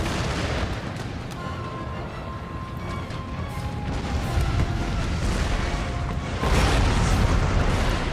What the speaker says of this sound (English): I'll set my artillery to hit the camel gunners even though they're too far away.